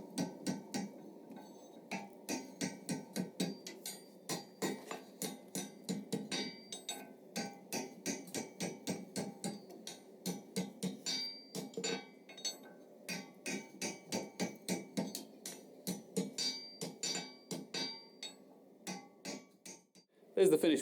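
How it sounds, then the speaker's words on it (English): A hammer rings on hot iron over an anvil fork while a scroll is forged, a long run of close, sharp strikes in bursts with short pauses. "I'll show you that method of forging a scroll"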